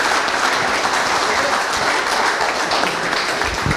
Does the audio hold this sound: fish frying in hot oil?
no